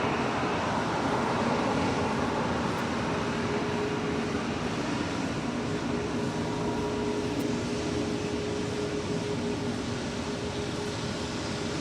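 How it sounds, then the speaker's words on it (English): A Korean Air Cargo plane taking off from a runway at Los Angeles International Airport, heard as a loud, continuous broadband jet-engine roar with a steady low drone, unchanging and dense for the whole stretch. "So the Korean Air Cargo taking off on 25 rights, already heading on down the runway."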